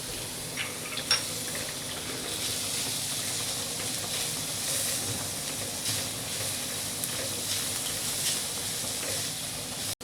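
Onion, garlic and green chili sautéing in a pan over high flame, a steady soft sizzle and hiss with faint clinks, quiet and continuous with no talking.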